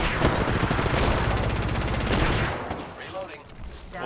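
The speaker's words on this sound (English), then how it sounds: "Opening fire on the enemy." Gunfire in the video game Apex Legends: a dense, loud burst of rapid automatic fire for a few seconds that then breaks off into scattered quieter sounds.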